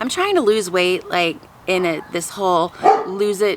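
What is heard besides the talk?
dog barking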